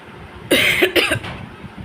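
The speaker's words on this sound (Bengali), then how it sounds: "আমারও কাশি হচ্ছে।" A woman coughs indoors at home, three quick, close coughs in a short burst that fade into quiet room tone.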